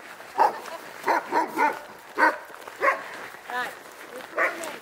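Several reactive dogs, including a border terrier, bark repeatedly at a training boot camp, a series of sharp near barks spaced through the moment.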